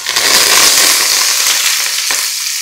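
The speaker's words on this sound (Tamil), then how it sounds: "நல்லா ஃப்ரெஷ்ஷான கருவேப்பிள்ளை போடுமா" Fresh curry leaves crackle and sizzle loudly in hot oil alongside cinnamon and dried chillies, a dense close spitting hiss that holds steady throughout.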